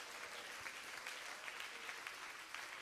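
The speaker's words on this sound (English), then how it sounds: "Let's clap our hands unto the Lord all over the house." Clapping from a youth conference crowd in a church-style worship service, a steady patter of many hands, quiet and somewhat distant throughout.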